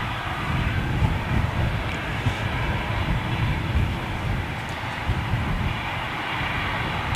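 A Ryanair Boeing 737 rumbles at Manchester Airport with a steady, broad jet-engine roar that holds evenly and fairly loud throughout, with no voices.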